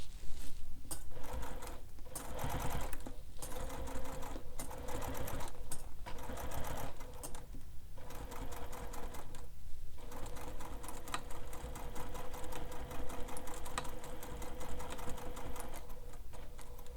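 A sewing machine stitches a black leather wallet, running in fast continuous bursts broken by short pauses as the seam is guided and back-stitched, loud and close with no talking.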